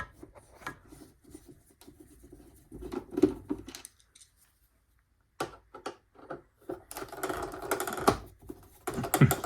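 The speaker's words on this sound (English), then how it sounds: "I'll take these 3 screws up here out first" Screws being removed from the touch screen panel of a sewing machine, light scattered clicks and scratchy metallic ticks up close, in quiet bursts with a short silent gap midway.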